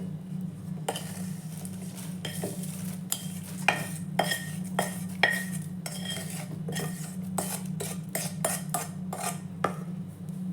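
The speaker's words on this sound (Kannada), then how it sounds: "ಒಂದು ದೊಡ್ಡ ಪಾತ್ರೆಗೆ ಚುರುಮುರಿಯನ್ನು ಹಾಕ್ಕೊಂಡು ಕಲಿಸ್ಕೊಳ್ಳೋಣ" Garlic churumuri, seasoned puffed rice, being tossed and mixed by hand in a large vessel, giving a steady run of light rustles and clinks over a constant low hum.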